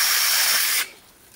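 A small Troozy 6-inch electric chainsaw cuts through a tree limb with a loud, dense buzzing hiss that stops abruptly partway through, leaving faint quiet.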